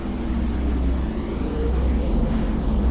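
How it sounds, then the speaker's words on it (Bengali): A recording of planet Earth from space plays as a dense, steady low rumble like a distant engine or wind roar, continuous and fairly loud for the whole moment, with no voices. "আর এখন যে শব্দটি আপনারা শুনতে পাচ্ছেন সেটা কিন্তু আমাদের পৃথিবীর তার নিজস্ব শব্দ।"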